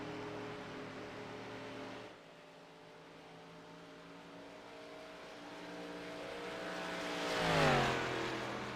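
Stock car race at Kansas Speedway under caution, with engines droning steadily at a distance and then one car's engine swelling louder as it sweeps past near the end.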